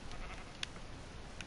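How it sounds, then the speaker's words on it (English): A sheep bleats in a Minecraft survival game, heard as a couple of short, faint calls over a steady background hum. "I'd rather punch this sheep for now."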